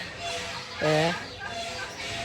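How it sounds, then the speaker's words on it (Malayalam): Chickens clucking in a zoo enclosure in Al Hasa, Saudi Arabia, with one short, fairly close cluck rising above a steady background murmur. "കോഴി, താറാവ് അതുപോലുള്ള സാധനങ്ങളൊക്കെ ഇട്ട് വെച്ചിട്ടുണ്ട് കേട്ടോ"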